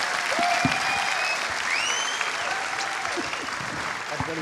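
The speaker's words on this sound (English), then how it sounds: "let's give a rousing round of applause, like you're doing already" An audience at a James Bond concert applauds warmly, a thick continuous clatter of clapping with a few whistles and cheers rising out of the crowd, holding steady throughout.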